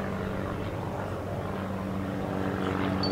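A Starduster biplane of steel tube and wood construction flies at the Paris Air Show, its propeller engine droning steadily from a moderate distance in open air.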